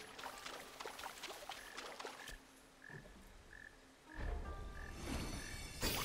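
Toad croaking in the Black Myth: Wukong video game: a series of short, evenly spaced croaks heard over a busy game soundscape, with a louder surge of noise near the end.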